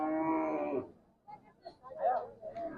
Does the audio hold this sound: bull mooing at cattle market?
yes